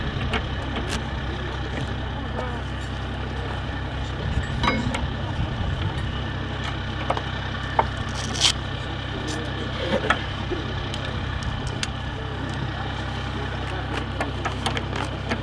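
The engine of an Amphibious Combat Vehicle runs after power-on, holding a steady, loud low rumble for the whole stretch, with faint clicks and knocks on top and occasional voices underneath.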